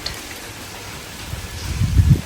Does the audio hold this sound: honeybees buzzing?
no